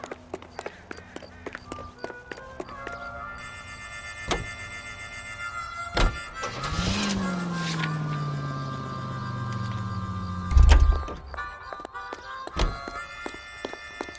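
A period car drives in L.A. Noire: engine hum runs beneath sharp thunks and clicks, a rising then falling whine in the middle, and a deep rumbling bump near the end, with little talk.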